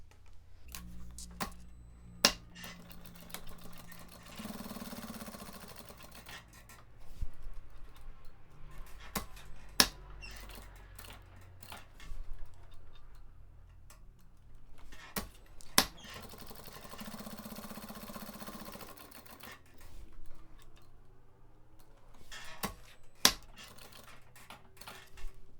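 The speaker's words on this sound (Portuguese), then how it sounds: "Aqui agora eu vou vir na máquina e vou fazer uma costurinha em toda a volta dessa alça." A sewing machine stitches all around a strap for a cube-shaped toiletry bag with dividers, running in several bursts of rapid mechanical needle chatter between pauses, sharp clicks and handling noises, close and fairly quiet.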